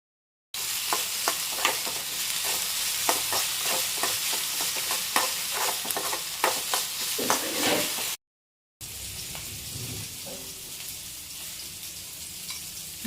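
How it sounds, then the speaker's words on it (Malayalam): Chopped onions sizzling in hot oil in a pan while being stirred, a continuous close hiss with rapid clicking spatula strokes, pausing briefly before quieter frying resumes. "ഞാൻ ചേർക്കാൻ പോകുന്നത് നമ്മൾ ചോപ്പ് ചെയ്ത് വെച്ചിരിക്കുന്ന സവാളയാണ്. അതിട്ട് കൊടുത്തു. ഇളക്കി കൊടുക്കണം. നല്ലപോലെ ഇളക്കി കൊടുക്കണം."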